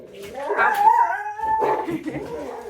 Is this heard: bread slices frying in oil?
no